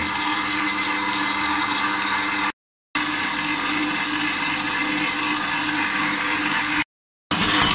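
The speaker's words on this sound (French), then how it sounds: "ça fait 2-3 minutes que le pétrissage a démarré" A stand mixer kneads brioche dough for chocolate milk rolls, giving a steady, loud motor whir with mechanical churning. It runs continuously, broken by two brief silent gaps.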